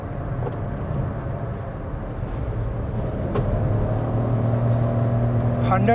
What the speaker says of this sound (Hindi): तो मैं इंस्टेंट एक्सेलरेशन देता हूँ, अभी पावर मोड पे है गाड़ी और वहीं से गाड़ी पुल कर रही है